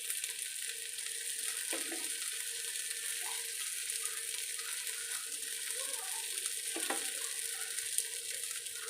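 Steamed colocasia leaf patrode rolls shallow-fry in oil, producing a soft, steady close-up sizzle with faint crackles throughout and no speech.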